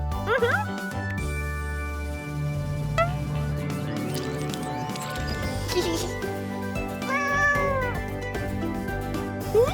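Cartoon cats meow several times in a busy animated scene, their calls rising over constant music and sound effects with voices speaking throughout.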